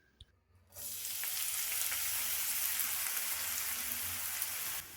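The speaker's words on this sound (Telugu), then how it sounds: "స్టవ్ మీద కడాయి పెట్టుకొని 1 టీ స్పూన్ దాకా ఆయిల్ వేసుకొని ఒక 200 గ్రాములు మెంతాకు కూరని ఇందులో వేసుకొని ఫ్రై చేసుకోవాలి" About 200 grams of fenugreek leaves drop into a teaspoon of hot oil in a kadai and start a loud, steady sizzle that runs evenly, then cuts off abruptly.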